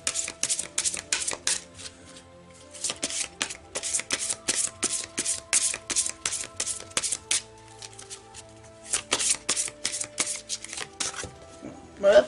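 Oracle cards are shuffled by hand in repeated quick riffling bursts with short pauses between them, close and crisp.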